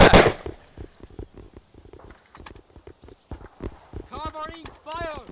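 Rapid gunfire crackles in the World War II shooter Easy Red 2, a burst of sharp shots followed by a dense run of close pops, with shouted voices over the final stretch.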